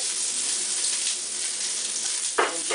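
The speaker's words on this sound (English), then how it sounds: "I'm going to use the iron pan here to brown my meat, but before I do that, I want to add the onions first" Onions sauté in an iron pan on a home stove, a steady close sizzle and crackle with a short stirring clatter near the end.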